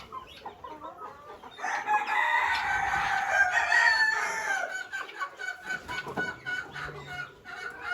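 Brahma Light and Leghorn chickens on a poultry farm, with a rooster crowing loudly in one long call over the steady nearby clucking of several hens, then scattered clucks and rustling afterward.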